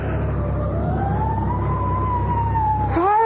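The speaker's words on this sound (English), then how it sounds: "Fire engine?" Fire engine siren from a radio drama, a long rising and falling wail heard alone over steady traffic rumble, swooping faster just at the end.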